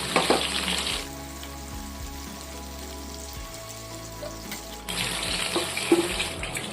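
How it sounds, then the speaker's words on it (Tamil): Drumstick pieces frying in oil in a pan for thokku, giving a steady sizzle throughout, with splashing water like a running tap at the start and again near the end. "நம்ம முருங்கைக்காயை இப்போ நல்லா எண்ணெயில் வதக்கி எடுத்துட்டோம்"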